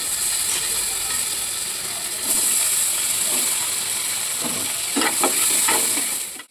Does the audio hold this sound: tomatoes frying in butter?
yes